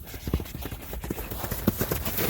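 Hooves of a black kok-boru horse with a white blaze clip-clop close by in a quick, steady rhythm of sharp knocks with no voices.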